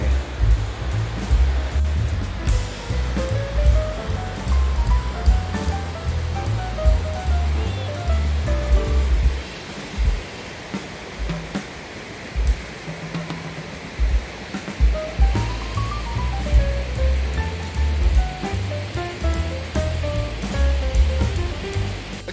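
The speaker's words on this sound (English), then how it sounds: "And the waterfall's down that way." A waterfall near Deep Creek Lake, Maryland roars in a continuous loud wash of falling water that fills the scene, with faint melodic tones weaving through it.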